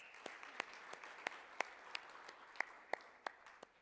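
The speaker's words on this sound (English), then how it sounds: "Please welcome him with a big round of applause." Scattered, quiet applause from an audience at the Korea LAC Summit in Seoul welcomes a company CEO to the stage: roughly a dozen separate, distinct claps spread unevenly across a few seconds rather than a full ovation.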